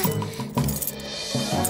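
Metal keys clink and jingle in a Fireman Sam cartoon as they are caught by a lowered magnet, a few light metallic taps over a soft musical background.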